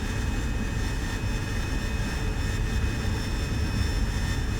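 An AV-8B Harrier jet in the DCS flight simulator roars at full power, a dense, steady engine whine and rumble holding constant throughout, alone with no voices.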